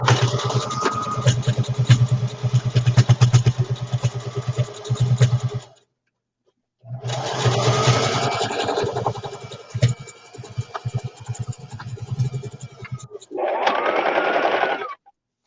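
A sewing machine stitches fabric in loud, close, rapid whirring runs, stopping abruptly for about a second before starting again and finishing with a short final burst.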